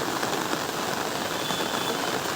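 Steady, dense hiss of heavy unseasonal rain pouring down in a village, continuous and even throughout with no voices.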